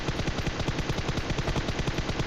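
Rapid automatic gunfire from a PUBG Mobile match, a steady stream of close, loud shots with a dense metallic rattle that runs unbroken for about two seconds.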